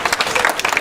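Brief burst of applause from a community audience at a library opening in Williamstown, dense overlapping claps filling the room, moderately loud and close.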